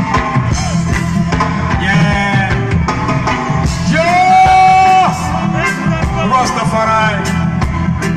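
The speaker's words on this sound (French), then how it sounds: "Solis, applaudissez pour lui, mon frère." A crowd at a reggae festival in Mali cheers, yells and whoops loudly and continuously, with a sustained held shout rising above the roar midway.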